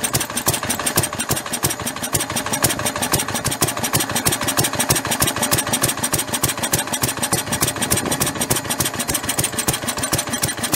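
Lister D stationary engine coupled to a generator, running rich, chugs in a fast, even beat as a valve is lifted and it picks up speed, loud and close with no talk.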